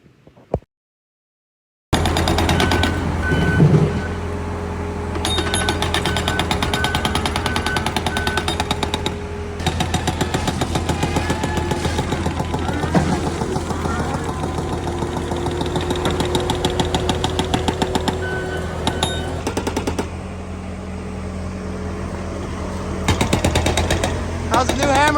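An excavator's hydraulic hammer pounds rock in rapid, steady bursts over a running diesel engine, loud and close, pausing briefly between stretches of breaking.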